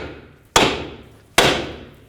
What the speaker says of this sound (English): use a hammer right here on the knuckle